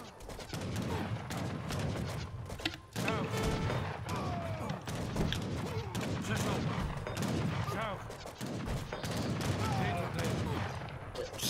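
Gunfire from troops in the Age of Empires III video game rattles in dense volleys and scattered single shots, continuous over the whole stretch, with people talking over it.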